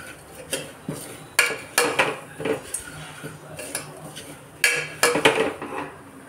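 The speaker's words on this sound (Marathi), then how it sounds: "यामध्येच थोडीशी हळद घालून घेणार आहोत, पुन्हा मिक्स करूया, परतून घेऊया।" Peanuts with turmeric are stir-fried in a pan, with repeated scraping and clinking of a spatula against metal in irregular bursts over a faint background, close by.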